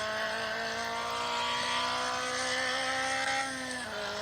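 A car driving in the mobile racing game Real Driving 3D gives a steady, sustained synthetic engine drone that holds at an even pitch, then shifts slightly near the end; it plays alone at moderate loudness.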